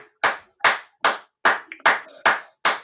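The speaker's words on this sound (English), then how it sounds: "Clap it up for him." A single person claps deliberately, seven sharp, evenly spaced hand claps about every 0.4 seconds, close and loud with clean silence between them.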